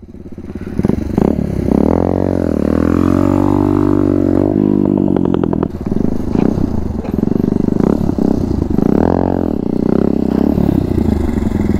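A TVS Apache motorcycle revving hard during circle wheelie stunts, close and loud, the engine rising and falling in long surges with throttle blips and some clatter between.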